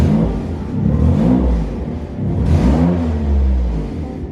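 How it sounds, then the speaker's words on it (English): An 800 HP Nissan GT-R with a suspected exhaust leak revs twice, each rise loud and raspy with a rough, flat drone, close by with no talking. "I'm thinking it's an exhaust leak."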